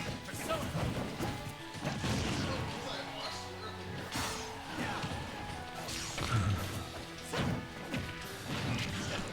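Super Smash Bros. Ultimate tournament match with a steady barrage of smash attacks, crashing hits and thwacks landing repeatedly over busy game music, while a commentator talks throughout.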